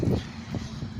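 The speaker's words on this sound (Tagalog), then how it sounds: "Panay sasakyan, bus, truck, traffic light." Road traffic of cars, buses and trucks rolls past on a street, a low rumbling wash with a few soft whooshes and thumps from nearby vehicles, fairly faint and without speech.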